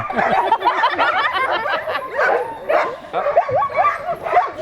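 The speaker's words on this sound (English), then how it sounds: "every sled dog began to bark, hoping to be picked for the run" Sled dogs in Alaska bark, yip and whine together in an excited, overlapping chorus that stays fairly close and continuous, with louder yelps popping out irregularly.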